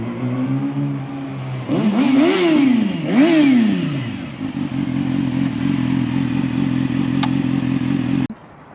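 A motorcycle engine idles, then revs up sharply twice with rising and falling pitch before settling back into a steady, close, loud idle.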